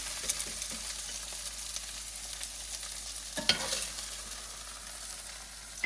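Okra frying in olive oil in a pan, a steady sizzle with occasional stirring scrapes and pops throughout, fairly close and even in level.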